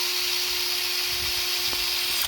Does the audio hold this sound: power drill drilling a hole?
yes